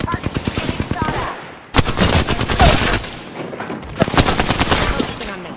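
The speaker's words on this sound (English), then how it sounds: "Getting shot at." Rapid automatic gunfire in the battle royale game Apex Legends, dense bursts of close, loud shots with a brief pause before a heavier second volley, while a voice talks underneath.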